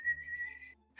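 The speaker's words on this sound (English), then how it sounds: "You just start kind of whistling" A person gives a short, steady whistle that holds one clear pitch for most of a second, then stops, quiet and close with no talking.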